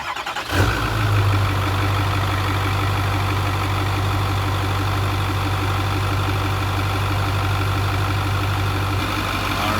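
A Ford 6.4L Powerstroke diesel truck engine with a Smeding turbo and S&B intake fires up with a quick start, then settles into a steady, loud, rumbling idle that holds near and constant to the end.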